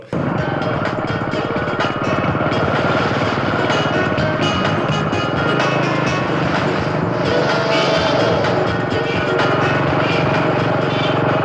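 Two characters ride a motorcycle in a Malayalam film scene, the engine droning steadily and loudly throughout with a slight swell midway, no voices over it.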